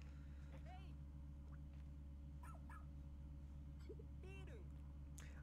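A rescue dog in the video game Pikmin 4 barks and whimpers while digging, short yips over a steady game soundtrack hum.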